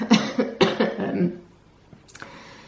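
A bout of harsh, chesty coughing from a sick person, several rapid coughs in a row, then a pause and a final softer cough or throat clear, close up.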